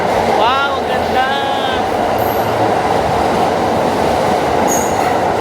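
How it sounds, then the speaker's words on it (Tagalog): A loud Kintetsu train runs through Osaka toward Nishikujo with a steady, close, roaring rumble, and brief high wheel squeals cut through near the start and end. "Ang bilis lang ng tren."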